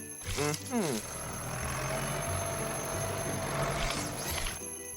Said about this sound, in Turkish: Bu sadece dinlenmeni söyleyen alarm. Sen kestirene kadar çalmayı bırakmayacak biliyorsun.